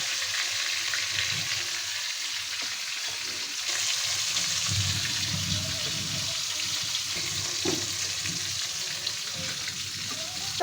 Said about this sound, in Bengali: মাছগুলো আমি এখন ভেজে নেব